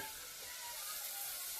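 Spices hit hot oil for a tempering while Maggi noodles are made in a home kitchen, giving a brief, faint, steady sizzling hiss with no voices over it.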